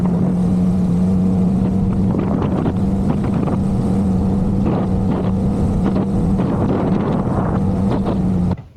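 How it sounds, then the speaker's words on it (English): A little dinghy driven by an overpowered outboard motor, running fast on the water with a loud, steady engine drone, wind buffeting and hull slaps throughout, cutting off at the end. "with that over horsepowered motor on there, on this little dinghy, it hauls butt"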